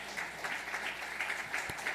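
A church congregation at a Sunday worship service claps briefly, a soft, moderately distant patter of hands with a faint rhythmic pulse.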